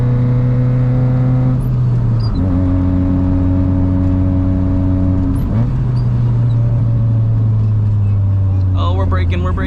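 Honda CB7 car driving on a road, its engine droning steadily and bogging, with pitch shifts as it accelerates and changes gear; a voice talks over the engine near the end.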